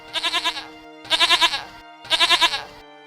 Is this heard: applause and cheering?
no